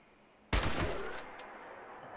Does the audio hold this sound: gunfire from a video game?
yes